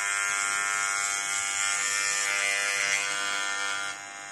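Moser hair trimmer running with a noisy fault, a steady high-pitched electric buzz and whine held loud and close for several seconds before dropping slightly in level at the end.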